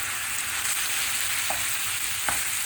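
Chopped tomatoes sizzle and crackle steadily in hot oil in a pan, with a couple of soft stirring clinks.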